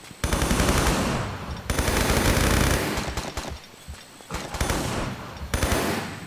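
Tomb Raider 3 gunfire in long, loud bursts of rapid machine-gun shots, stopping and restarting several times, each volley dense and close, in the Crash Site level.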